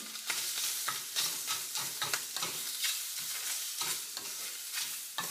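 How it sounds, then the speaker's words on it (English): Peeled, deveined shrimp hit a hot pan with garlic for sweet potato pad thai. The result is a bright, continuous sizzle broken by repeated scraping stirs, close and fairly loud, with no talking. "So I've got my garlic, and I'm adding some deveined shrimp."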